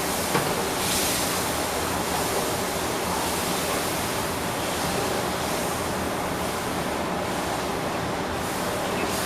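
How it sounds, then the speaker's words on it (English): Water pours steadily into a pan of gravy for smothered pork chops, a continuous loud rushing hiss with no break and no talk. "this is 4 cups of water, so I'm going to add a little bit at a time."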